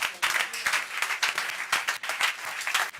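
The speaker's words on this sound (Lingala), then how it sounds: "Acclame très fort pour le roi des rois." Enthusiastic applause from a crowd, dense clapping that swells and surges in waves for the whole stretch.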